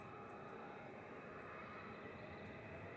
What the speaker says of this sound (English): Just a brief bit of reverse thrust.